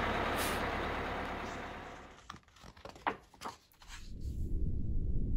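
City bus sound effect in a children's read-aloud story: a rumbling engine, a sharp hiss and clatter of air brakes releasing in the middle, then the engine pulling away again.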